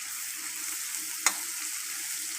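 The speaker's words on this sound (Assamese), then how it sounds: "কেৰাহীত তেল দি যেনেকৈ আপোনালোকে পিঁয়াজ ভাজে তেনেকৈ আমি ভাজি লৈছোঁ প্ৰথমতে" Onions frying in oil in a wok, a steady soft sizzle with one sharp clack of a utensil against the pan midway.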